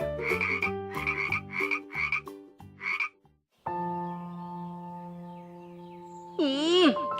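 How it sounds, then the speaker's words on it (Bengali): A cartoon frog croaks in a Bangla animated fox story: five or six quick, rhythmic croaks, a short pause, then a long sustained tone that ends in a wobbling, warbling call. "এই ব্যাং, এই পালাস নে, থাম রে থাম।"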